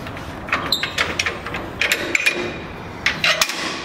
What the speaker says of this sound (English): Undo this clip here.